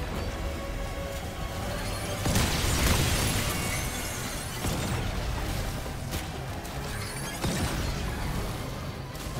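Earthquake machine attack in the video game Remnant 2, a sustained rumbling crash with shattering debris bursts, loudest around the third second and flaring again later, dense and continuous over game noise.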